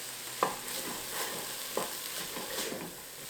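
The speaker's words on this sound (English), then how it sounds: "we're just going to want to give this a good little stir" Tomato paste being stirred into sautéing vegetables in a pan: soft, continuous sizzling with a few scraping stirs and faint clicks of a utensil, quiet and close, with no talking.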